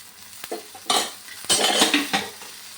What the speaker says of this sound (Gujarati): હવે બીજી બાજુ પણ આપણે એને ધીમા તાપે શેકી લઈએ.